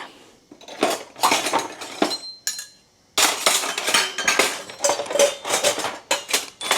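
Metal spoons clatter and clink against pots in quick, irregular bursts while bitter gourd is being cooked, close and loud, with a brief pause midway before the clanking resumes.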